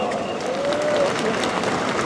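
Sustained applause from a rally audience after a Democratic Labor Party speech, steady and fairly close, with faint voices mixed in.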